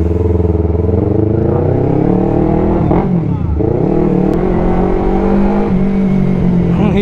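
A Yamaha R3 motorcycle with an Akrapovic exhaust revs loudly and close by, its engine note swelling and dipping through a continuous rumble with a brief throttle blip midway.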